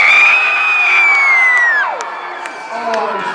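A youth conference crowd jumps and screams loudly, a dense wall of cheering, whooping and shrieking voices with a sustained high yell that holds and then falls away, followed by scattered shouts.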